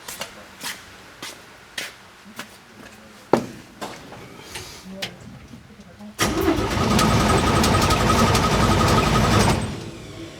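A 1949 Chevy engine being cranked, with rhythmic starter chugs and clicks, then catching and running loud and steady for several seconds before cutting off.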